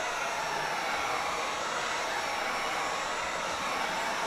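Heat gun blowing a steady, even hiss of hot air across a thin vinyl roof wrap film; constant and close, with no speech.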